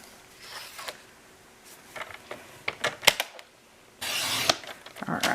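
Scissors snip through a scrap of red paper in a few short crisp cuts, with a longer, louder rustling cut near the end; close and alone with no talk.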